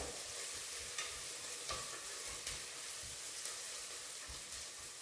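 Ghee sizzles steadily in a pan while millet dal khichdi ingredients are fried, a continuous broadband hiss with soft, regular knocks of stirring underneath.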